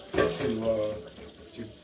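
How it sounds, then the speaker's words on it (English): Tap water runs to flush out juicer parts after making carrot juice, a steady close rushing splash with shifting tones as the stream hits the pieces, alone without talk. "Flush it with water so you get most of it out"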